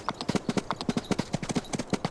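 Horse hooves gallop in a video game, a quick, rhythmic run of loud, close clip-clop beats in repeating groups of three and four.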